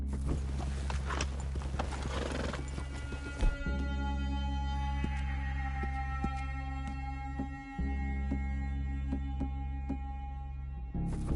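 Video game horse hooves clip-clop steadily at a walking pace over a constant low rumble, with a brief shuffle partway through.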